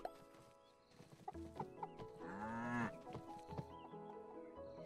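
In the farming video game Staxel, a cow moos once, a drawn-out low call in the middle, while chickens cluck and chirp around it over soft in-game background sounds.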